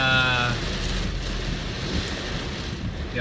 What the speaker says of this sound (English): A lot of rain here, folks. A lot of rain.